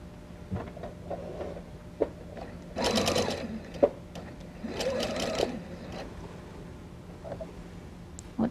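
Sewing machine stitching across the top of a fabric chicken pin cushion, running in two short bursts of a second or so each, separated by quieter handling noises, fairly close and clear.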